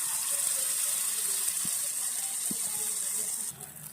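Water pours steadily into a mixer jar with a soft rushing hiss, then eases off near the end. There is no talking.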